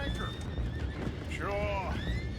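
A horse in the video game Red Dead Redemption 2 gives one clear whinny midway, with hooves clip-clopping and voices talking underneath.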